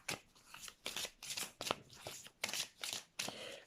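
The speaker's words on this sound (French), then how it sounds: "Les cartes m'ont échappé des mains." A deck of oracle cards is handled and slips out of someone's hands, producing a quick run of crisp papery riffles and flutters in an uneven rhythm, close up and fairly quiet.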